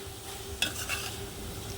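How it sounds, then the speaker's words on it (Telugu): Chili powder frying with chana dal for a Telugu-style curry, a steady low sizzle in a pan with a brief scrape of stirring partway through, close and alone. "ఈ కారం కూడా ఫ్రై అయ్యేలాగా అంతవరకు మంచిగా ఫ్రై అవ్వనివ్వాలి."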